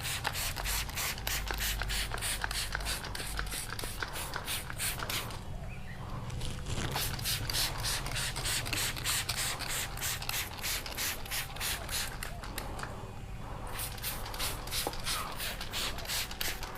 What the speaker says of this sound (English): put this NV Snow Plus so I can get this spray trigger to work